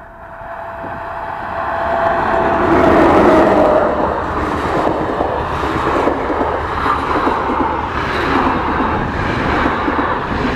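Hungarian Intercity passenger train arriving from the Balatonfüred direction on railway line 29. It makes a loud, steady rolling rumble that swells near the start and continues evenly to the end.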